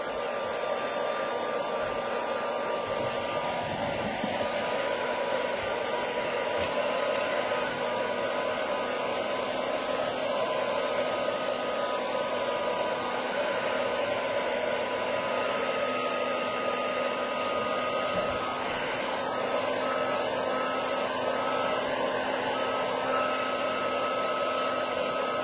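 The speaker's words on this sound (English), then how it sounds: "I'm gonna hit this with the heat tool real quick." A craft heat tool blows a steady, close, continuous whooshing hum while drying freshly applied paint on a painted landscape craft project, unbroken for the whole stretch with no voices.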